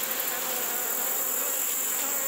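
Honey bees at a colony with queen problems and deformed wing virus buzz in a dense, continuous hum, loud and close, holding a steady level throughout with no voices.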